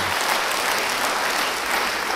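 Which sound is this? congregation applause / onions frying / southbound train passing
congregation applause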